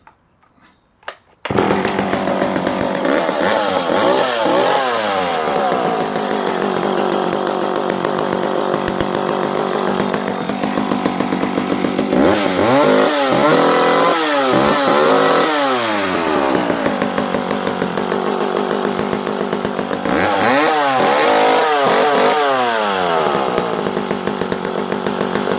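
A Danarm 55MKIII classic British chainsaw runs loud and close for the whole stretch, its two-stroke engine snarling steadily with repeated sharp throttle blips and revs rising and falling.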